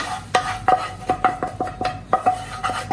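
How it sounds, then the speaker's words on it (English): Cooked tomatoes being stirred into dal makhani in a pot, with a steady series of metal spoon knocks and scrapes against the rim, about three per second, close and clear. "Now we add tomatoes in this dal."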